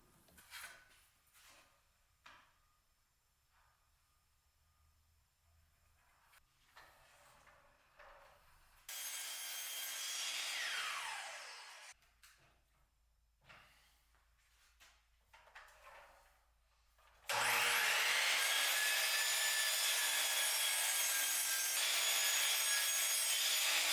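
A miter saw cuts wood pieces for a build in a cold workshop, with two loud, close bursts of high whining cutting noise separated by quieter shop handling sounds.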